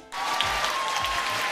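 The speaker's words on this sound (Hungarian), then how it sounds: "Nagy-nagy tapsot érdemelnek." An audience applauding a placed team at a competition event, steady broadband clapping that starts abruptly after a brief quiet moment and holds evenly, with a faint tone running underneath.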